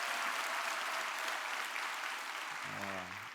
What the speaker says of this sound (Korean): 우리 하나님께 박수하십시다.